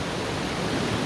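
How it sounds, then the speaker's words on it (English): A river pouring over rocks like a small waterfall in the Icefields Parkway glacier country, a steady broadband rush holding evenly through the whole short stretch with no other sound on top. "It's more like a waterfall."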